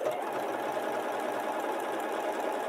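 Janome sewing machine stitching at steady speed, a continuous close whirring hum with a faint fast rhythmic pulse and no voices.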